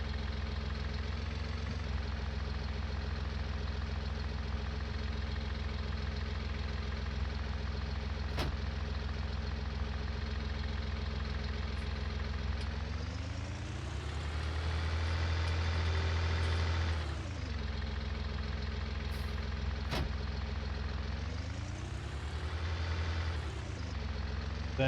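Steady engine drone of a straw blower machine in Farming Simulator 19, a constant low idle that swells louder and rougher midway as the load shifts, then settles back, with no talk.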